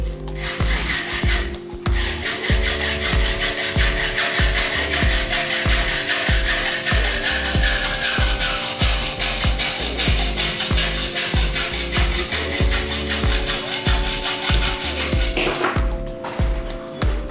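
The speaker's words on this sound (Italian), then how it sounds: "Poi con la sega da ferro andiamo a tagliare il tubo." Hacksaw cutting through a 1-inch bicycle fork steerer tube, a steady back-and-forth rasping in rapid, even strokes, loud and close, with no talk.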